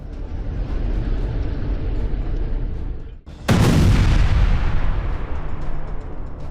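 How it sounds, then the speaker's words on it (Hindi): A heavy explosion booms in Gaza, cutting through a steady roar after a brief dip, then decays into a long loud rumble, with no voices. "ये वीडियो इस बात का सबूत है कि गाजा इस वक्त ताबड़तोड़ धमाकों से दहल रहा है"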